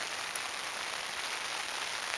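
Rain falls steadily in the South Dakota badlands, a soft even hiss of drops on a surface, faint and continuous with no other sounds.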